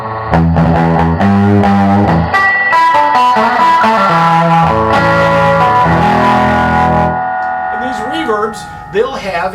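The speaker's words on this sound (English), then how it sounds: "we have this reverb tank." A tube guitar amplifier's reverb tank adds a washy, sustaining tail to loud, distorted chords and single notes, which ring on and fade before a voice speaks briefly at the end.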